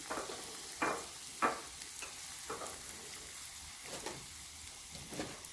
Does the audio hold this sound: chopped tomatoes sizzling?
yes